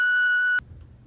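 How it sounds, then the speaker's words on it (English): A voicemail beep sounds as a single steady, loud electronic tone lasting about half a second, then cuts off abruptly into quiet line hiss. "please leave your message after the tone"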